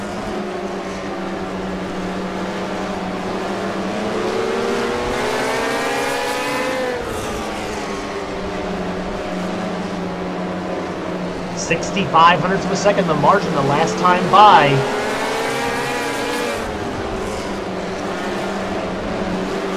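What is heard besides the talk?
race car engines in a sim racing video game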